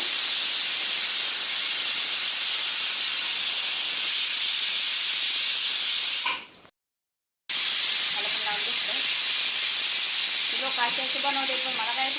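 A pressure cooker releases steam while chhole cooks, a loud, continuous close hiss that cuts out briefly and then resumes, with a faint voice under it near the end.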